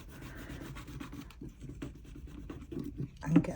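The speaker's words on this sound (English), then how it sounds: "And I'm just going to use a squeegee" A squeegee rubs a DTF sticker down onto a resin trinket tray, making faint, close scratchy strokes in short repeated passes with a louder scrape at the end.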